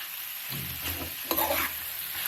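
Bitter gourd stir-frying in a pan, stirred with a few scraping strokes over a steady close sizzle, with two brief louder bursts of stirring.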